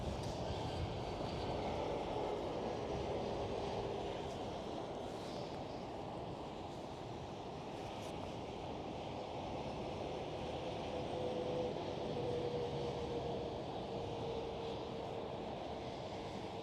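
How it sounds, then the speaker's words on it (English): An Airbus A380 airliner taxis at Schiphol airport with a constant, distant, low engine roar and whine that holds steady without rising or fading. "Right here we do have the A380 again, taxiing back."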